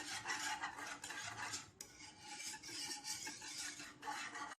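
Banana custard with chopped nuts is stirred in a pan, making continuous close scraping and rubbing strokes in an uneven rhythm, with one short pause midway.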